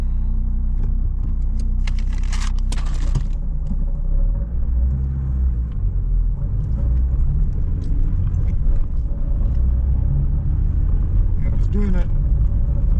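A Vauxhall Corsa B 1.4Si on the road gives a steady low engine and road rumble with scattered light rattles and knocks, plus a brief burst of clatter early on. Someone talks intermittently over it.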